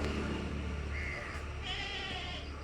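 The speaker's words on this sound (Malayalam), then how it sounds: "നല്ല ഇറച്ചിയിലുള്ള നല്ല സൈസുള്ള ആടാണ്" A large goat of over 60 kg bleats twice in quick succession, a wavering cry heard over a steady background hum.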